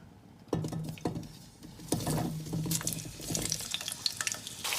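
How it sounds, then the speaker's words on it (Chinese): Small steamed, dried baby potatoes are eased into oil that is not too hot, then fry slowly with a soft bubbling patter and gentle crackling bursts that start abruptly and keep going quietly. "先不用太高的油温，把小土豆慢慢倒进去"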